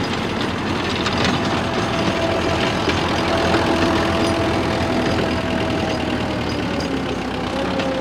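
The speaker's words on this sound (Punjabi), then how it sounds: "ਇੱਕ ਟਰੈਕਟਰ ਦੋ ਰੋਟਾਵੇਟਰ ਖਿੱਚ ਰਿਹਾ" A single-cylinder tractor engine pulling a 7 ft double-shaft rotavator rig drones steadily at close range, a continuous rumbling mechanical hum with no talking.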